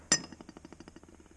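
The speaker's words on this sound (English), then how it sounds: "I can do them with a transfer punch" A transfer punch strikes metal once with a sharp, bright clink, and a rapid, faint rattling ring fades away over the next second. The setting is a workshop, marking holes on a dry vacuum pump cutaway.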